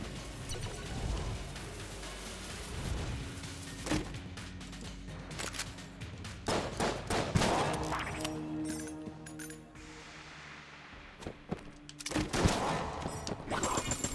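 A gun fires repeatedly in Enter the Gungeon, with dense, rapid shots and crashing impacts layered over busy game music and effects through the whole stretch.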